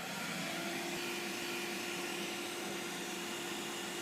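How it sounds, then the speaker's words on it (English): A vacuum cleaner sucking up pet hair inside a car runs continuously with a steady high whine and airy roar, close and loud, nothing else heard. "turn on your vacuum and just suck all that hair up"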